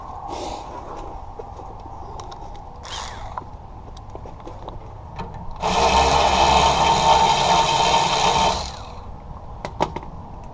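A wrench turns on the pin bolt of a rear brake caliper, a loud steady grinding burst of about three seconds between quieter clicks and handling noise.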